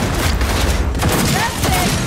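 Dense, loud gunfire in the game Cyberpunk, with rapid shots packed together in a constant barrage and voices shouting under the noise.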